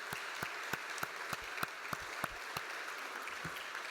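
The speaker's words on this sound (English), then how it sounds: "Can we give them a round of applause" Audience applause after a thank-you at an evening panel event, a steady wash of clapping from many hands with sharper individual claps popping out, sustained evenly and moderately loud throughout.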